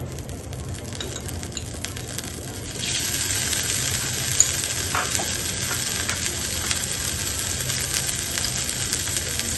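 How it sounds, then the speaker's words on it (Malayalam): Butter sizzling in a hot pan for a Punjabi lasooni palak paneer curry, a steady close frying hiss that swells louder partway through, with small pops and no talking. "നമുക്ക് കുറച്ച് ബട്ടർ ഇട്ട് കൊടുക്കാം."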